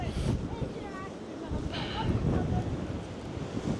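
Steady, rumbling wind buffets the microphone on the Blackpool promenade throughout, with brief muffled voice-like sounds poking through the low, continuous roar.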